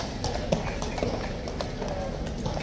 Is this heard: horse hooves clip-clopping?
yes